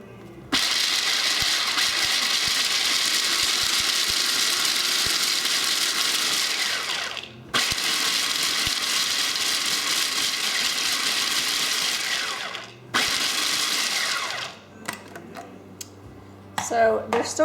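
Almonds for macarons grind in a food processor in a loud, steady whirring roar, running in three long bursts separated by brief stops, then a few short pulses near the end.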